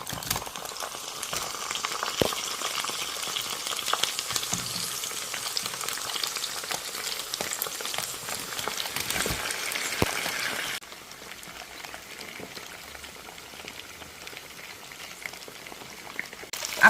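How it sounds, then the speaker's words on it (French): Mackerel fry in hot oil in a pan with a dense, crackling sizzle and scattered pops, which drops to a softer, steady hiss partway through. "L'huile assez chaude, je vais mettre mes poissons maintenant à l'intérieur."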